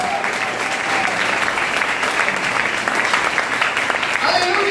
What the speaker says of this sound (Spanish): Den un aplauso a Él,